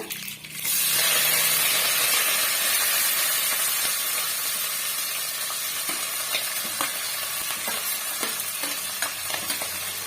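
Onions, curry leaves and green chilies sautéing in hot oil for a gram-flour curry give a steady, close sizzle. Faint scrapes of stirring rise above it, and no one speaks.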